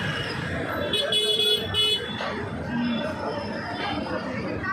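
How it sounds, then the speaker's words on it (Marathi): Cars and other vehicles stuck in slow traffic during a Ganapati procession, a steady street hum with short horn toots and crowd chatter throughout. "ट्रॅफिक असल्यामुळे गाड्या पुढे जात नाही."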